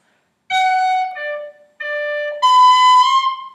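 A whistle plays phrase 3 of the Irish tune Kitty's Rambles: a short run of clear, sustained, tongued notes, close and bright, alone with no talk.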